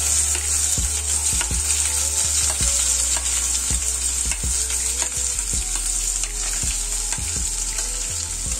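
Chopped onion hitting hot oil with chili and five-spice, a constant loud sizzle with repeated scraping clicks of a utensil stirring in the pan, no voices.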